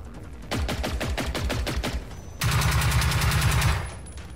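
Rapid gunfire in the video game Generation Zero, a steady run of sharp repeated shots followed by a denser, louder burst that fades out toward the end, with no voices.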